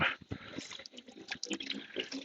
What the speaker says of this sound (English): Open up that valve, water will drain out.